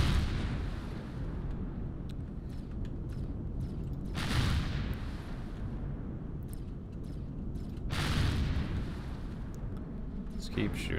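Rockets and gunfire pound an enemy turret in a video game: a steady roar of weapon fire with two heavy booming blasts swelling up, while a person talks over the action.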